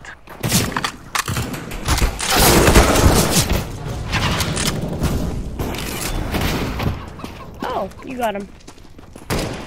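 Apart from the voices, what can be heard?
gunfire in the video game CS:GO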